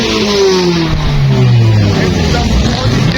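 A car engine revs at an outdoor university car show in Islamabad among parked jeeps, a loud close rising and falling roar with a steady crowd din behind it for about three seconds.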